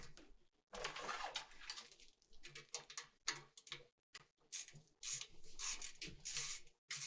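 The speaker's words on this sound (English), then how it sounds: "So let's undo these screws." A screwdriver undoing screws on a PC case, quiet rapid ratcheting clicks in short bursts separated by brief pauses.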